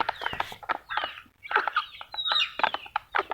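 Backyard coop chickens and a rooster, with four-month-old young birds among them, letting out a run of short clucks and chirpy calls in quick irregular bursts, close and moderately loud.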